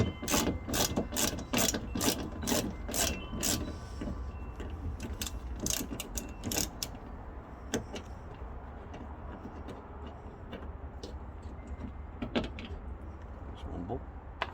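A wrench turning a 10mm bolt on the hood latch lever of a 2013–2015 Hyundai Santa Fe gives a quick run of sharp, evenly spaced ratchet clicks up close, then scattered fainter ticks over a steady low background.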